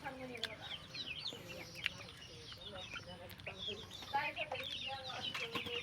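About 140 chickens in a small poultry room make quiet, steady clucking and scattered chirps, many birds calling at once at a moderate distance.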